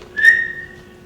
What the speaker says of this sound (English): Dolphins talk to each other using whistles like this